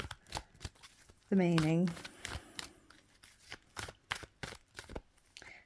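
A deck of tarot cards is shuffled in one brief, dense burst of riffling near the start, with a person talking around it.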